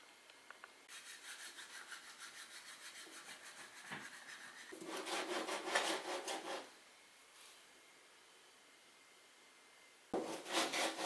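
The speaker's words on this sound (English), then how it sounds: "The 100 grit sandpaper actually works very well." Hand sanding with 100 grit sandpaper while flattening the edge of a handmade Mario Ninji coin, rapid rhythmic rasping strokes in several bursts with quiet gaps between, close and fairly crisp, no talking.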